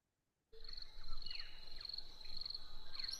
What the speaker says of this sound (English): as I begin the bird song